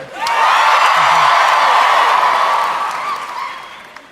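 Live audience at a Pod Save America podcast show bursts into loud applause, cheers and whoops that swell quickly, hold for a few seconds, then fade.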